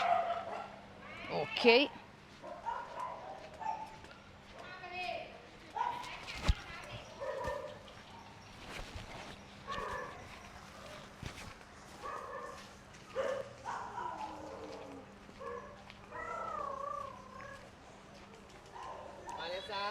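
Dogs at the Soi Dog Foundation shelter in Phuket, Thailand bark and yip in scattered bursts, some close and sharp, others farther off, while people talk nearby and a low hum runs underneath.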